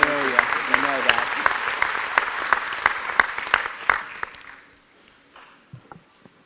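Applause for Dr. White at the 2018 BC3 commencement ceremony, a dense crowd clapping loudly with sharp individual claps and voices beneath, thinning out and fading to scattered claps over the last couple of seconds.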